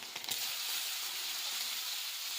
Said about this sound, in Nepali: कोइराल पनि हालेर भुटे